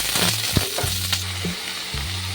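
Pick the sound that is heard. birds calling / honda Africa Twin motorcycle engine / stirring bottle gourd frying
stirring bottle gourd frying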